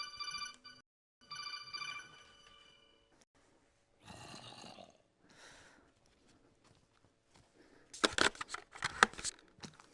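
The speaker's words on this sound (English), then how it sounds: "I'm getting a phone call" Electronic ringtone from an incoming phone call, a steady melodic tone repeating in short bursts over about three seconds, followed by rustling and clattering noises close to the microphone.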